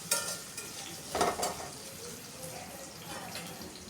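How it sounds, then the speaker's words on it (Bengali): Cut potatoes frying lightly in a pan give a soft, close sizzle, with a couple of brief stirring scrapes near the start and a low hiss throughout. "কেটে রাখা আলু দিয়ে দিব। আলুগুলোকে হালকা ভাজতে হবে।"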